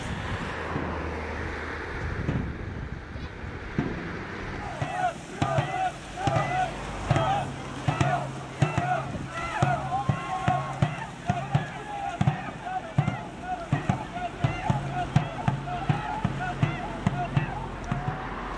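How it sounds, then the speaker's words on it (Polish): Dragon boat race on the Oder river at Krapkowice during a Children's Day riverside picnic, with a steady rhythmic pulse of drumming and paddle strokes building after a few seconds, under crowd chatter and outdoor wind. "wyścig smoczych łodzi"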